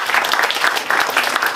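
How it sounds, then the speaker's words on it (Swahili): Audience at a youth gathering in Iringa applauds steadily and loudly, dense clapping filling the whole moment without a break. "naomba mumpigie makofi mengi sana"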